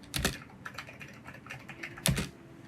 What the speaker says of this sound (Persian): برای تایپ کردن میتونیم از این استفاده کنیم، از این صدایی که اینجا هستش